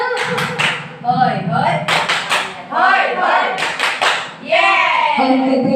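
Kindergarten group at TK Bunda Pertiwi performs a rhythmic spirit clap, sharp bursts of clapping and taps in short patterns, interleaved with children's chanted voices in time with the beat.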